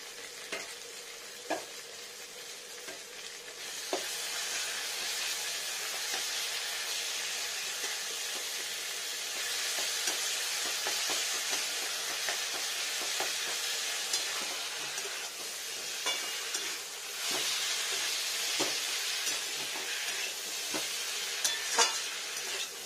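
Tomato masala with onion greens fries hard in a pan for a rohu fish curry, a loud, bright sizzle running throughout, punctuated by repeated stirring clacks and scrapes.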